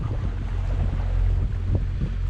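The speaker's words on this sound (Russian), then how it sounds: "И мы вот так идем по Дунаю на моторной лодочке Крым." Small Krym motorboat travelling along the Danube in the old town canals, its low engine drone steady and close throughout, mixed with wind buffeting the microphone and water noise, no talking.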